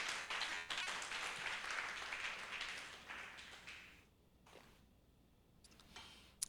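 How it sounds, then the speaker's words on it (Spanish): A church congregation applauding during a Spanish-language worship service, a broad wash of clapping that fades out toward the end, with no talk over it. "Dale un aplauso al Señor por la palabra."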